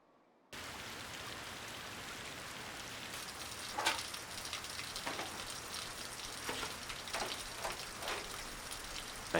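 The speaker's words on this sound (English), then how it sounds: "Obviously it's pouring" Heavy rain pours down outdoors where a mural is being painted, a dense, steady hiss of drops hitting surfaces that starts abruptly and continues with scattered louder splatters.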